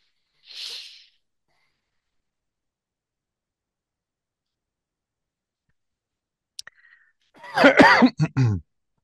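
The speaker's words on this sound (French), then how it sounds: "Allez, la petite toux." A short breathy burst near the start, then silence, followed by a faint click and a louder cluster of rough coughs close by, a prompted cough during a hypnosis session.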